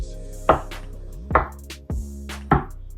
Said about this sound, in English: I'm just rough chopping the yellow